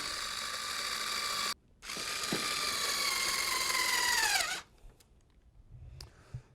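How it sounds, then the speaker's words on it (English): A power drill drives screws back into the induction module of an SKS 48-inch dual fuel oven: two sustained whirring runs separated by a short pause, the second winding down in pitch as the screw seats. "now we can put our 2 screws back into our induction module so that it can be removed later all as one"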